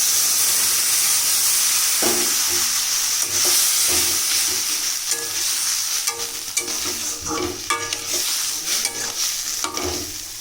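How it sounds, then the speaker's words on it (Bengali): Boiled lentils are tipped into a hot frying pan and stirred, giving a loud, continuous hissing sizzle with steam and repeated spoon scrapes against the pan, heard up close with no talking. "এবার যে সেদ্ধ করেছিলাম সে ডালগুলো সব দিয়ে দেবো"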